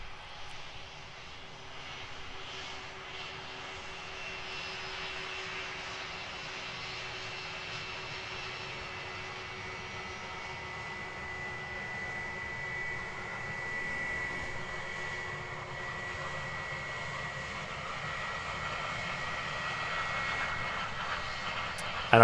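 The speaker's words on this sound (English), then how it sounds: "sounds like one of those A320 Neos. APU is on. If not, then it might be the Qantas Boeing 737" An Airbus A320neo or a Qantas Boeing 737 with its APU running at Queenstown Airport, a steady distant jet whine and rumble holding level and swelling slightly over time.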